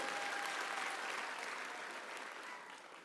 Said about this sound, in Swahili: Tumpe makofi na kongole.